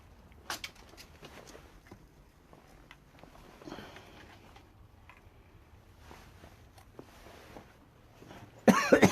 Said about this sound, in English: I've got this cough instantly as I'm stepping in here